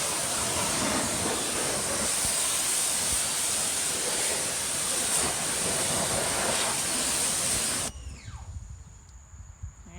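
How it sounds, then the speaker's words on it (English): A hose sprays water hard and steadily onto a mud-caked, coated tire, a loud continuous hiss that cuts off abruptly near the end, leaving faint dripping. "let's see with just water alone what kind of cleaning effect we can get to get this mud off"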